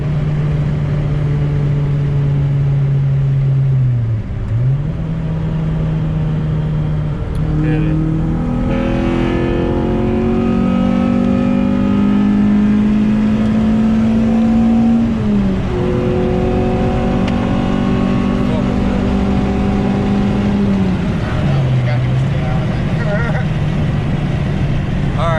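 A tuned street car on a new HTS setup pulls hard through the gears, its engine droning and rising in pitch with distinct drops at each shift, loud and close from inside, with people talking over it.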